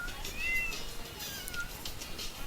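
Cat meows inside the video game Tasty Planet: Back for Seconds, a couple of faint, thin mewing calls over a steady, hissy electronic background.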